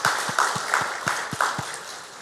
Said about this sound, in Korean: 우리 위로하고 감사하는 박수 하겠습니다